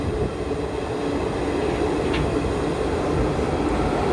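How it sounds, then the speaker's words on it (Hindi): The Hazrat Nizamuddin–Bangalore Rajdhani Express rushes past on the crossing track beside a moving train, a loud steady roar of wheels and rail noise filling the whole stretch without letup. "सो ये है हमारी बेंगलोर राजधानी, हज़रत निज़ामुद्दीन बेंगलोर"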